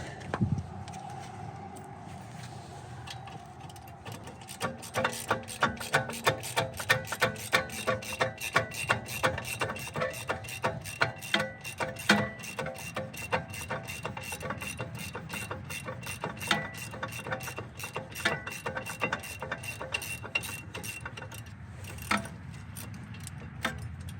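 A hand ratchet works on seized brake and hub parts of a Subaru Outback, giving a long, steady run of rapid metallic clicks close by that continues throughout with no speech.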